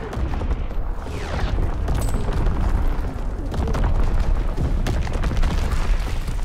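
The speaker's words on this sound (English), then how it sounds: "Incoming enemy artillery." Incoming enemy artillery in the World War II shooter Call of Duty: WW2, heard as heavy booming blasts and crackling debris rolling over a dense, loud battlefield roar, with scattered gunfire throughout.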